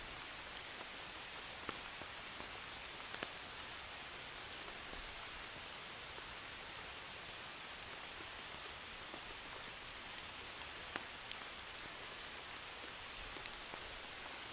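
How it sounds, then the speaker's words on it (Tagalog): Rain falls steadily outdoors, a soft continuous hiss with scattered drop ticks heard close, with no voices over it. "Malas naman guys, ang aga ng ulan."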